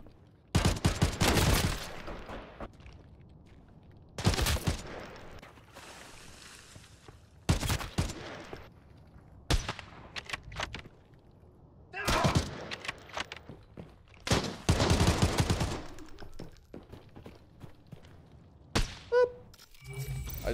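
Sharp gunshots in Arena Breakout: Infinite, single shots and short bursts scattered across a quiet stretch, loud and close, with footsteps and thumps between them.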